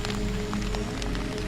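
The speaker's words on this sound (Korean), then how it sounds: "그리고 머지않아 비가 내리기 시작했다." Steady rain patters at dusk outside a closed village shrine, a dense hiss with scattered drop taps, heard alone with no other sounds.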